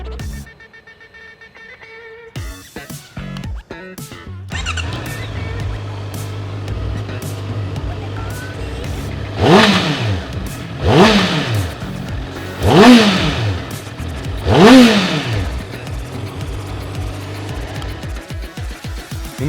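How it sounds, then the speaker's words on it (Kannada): A Honda CB650R motorcycle starts up with a short cranking burst, settles into a throaty idle, then its exhaust is blipped through four sharp, loud revs spaced a couple of seconds apart before dropping back to idle. "ನಿಮ್ಗೆ ಕೇಳಿಸ್ತಲ್ಲ ಯಾವ ಥರ ಒಂದು ಎಕ್ಸಲೆಂಟ್ ಥ್ರೋಟಿ ಎಕ್ಸಾಸ್ಟ್ ನೋಟ್ ಈ ಮೋಟರ್ಸೈಕಲ್ಗಿದೆ ಅಂತ"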